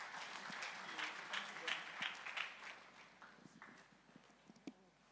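Scattered applause for a panel session at a real estate summit: loose, uneven claps in a thinning room, with voices speaking faintly underneath.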